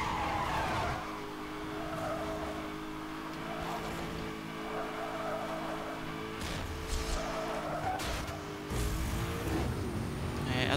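In the video game Need For Speed: Hot Pursuit, car engines drone and rev while tyres squeal and skid repeatedly, with sharp screeches and impacts standing out over a steady motor hum.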